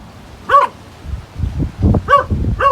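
Dogs at a home in the Philippines bark in a few sharp, close bursts, two separated yips near the start and end with rustling and low background noise between.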